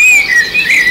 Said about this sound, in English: Do you hear the sound of birds chirping?